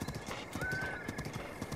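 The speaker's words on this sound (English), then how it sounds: "it's a fast horse, don't get me wrong" Hooves clip-clop at a steady galloping rhythm from a horse in The Legend of Zelda: Breath of the Wild, joined by a brief whinny, loud and close with no talk.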